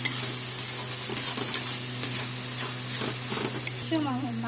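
Ginger, onion and green chilli paste sautés in a pan for a Bengali chicken curry, a steady sizzle broken by repeated scraping stirs, with a brief faint tonal sound near the end.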